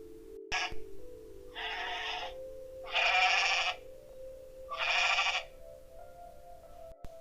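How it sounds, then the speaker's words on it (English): A goat bleats three times in drawn-out, nasal calls, each about a second long, heard clearly against a faint steady hum with a brief click at the start. "The sound which goat makes, we call it may may."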